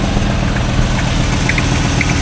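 The engine of a 1989 Range Rover Vogue SE idles steadily after starting, a loud, close, even rumble with a slight mechanical rattle. No voices are heard.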